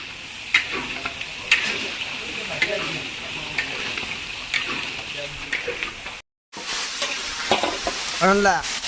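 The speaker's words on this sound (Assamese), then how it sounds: "এফালে মাছ ভাজি আছে" Fish fries and is stirred in a pan, making a continuous close crackling sizzle with scraping stirs, while people talk over it.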